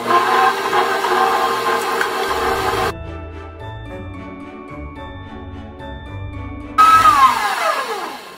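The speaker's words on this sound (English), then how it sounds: "you're gonna put your butter in the your mixer bowl and start mixing it" An electric stand mixer whirs as it beats butter in the mixer bowl, loud and close, dropping to a quieter lower drone in the middle before surging back up and winding down.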